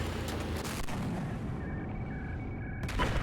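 A salvo of vehicle missiles and cannon fire in Battlefield 4 thuds in rapid succession, booming and crackling, followed by a sharp final blast near the end.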